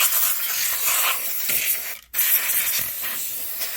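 A can of compressed air duster sprays into a dusty, noisy PS4 console in a loud continuous hiss, cutting out for a split second midway before resuming close up.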